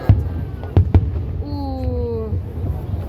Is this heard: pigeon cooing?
no